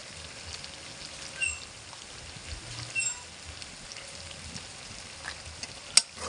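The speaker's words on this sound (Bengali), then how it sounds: "এবার এর মধ্যে আমি দেবো টমেটো সস।" Tomato sauce goes into a pan of boiled capsicum for chilli chicken, giving a soft, steady sizzle with light crackles and a few stirring scrapes, fairly quiet and close, with one sharp clink near the end.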